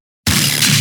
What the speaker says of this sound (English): so we add a chug on the offbeat